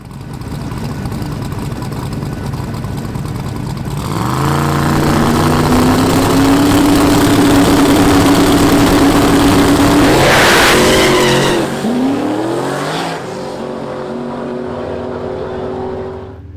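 A turbocharged little drag racing truck at a no-prep race idles roughly, then launches with a loud rising engine roar that holds high, and its tires spin. The roar cuts off sharply and the engine climbs again before settling.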